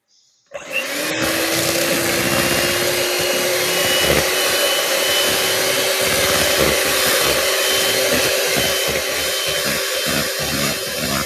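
An electric whisk starts abruptly and whirs loudly and steadily through white chocolate traybake batter, a constant motor whine with slight wobbles as the beaters move through the mix.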